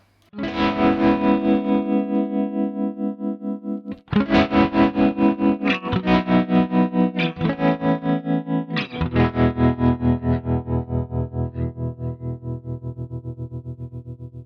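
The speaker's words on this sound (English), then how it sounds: "Tremolo is a nice little way of adding, again, more depth and dynamics into your tone." Distorted electric guitar chords through a Sonicake Warped Dimension tremolo pedal pulse rapidly in a steady throbbing tremolo, the choppy wavering continuing as the chords change and ring out.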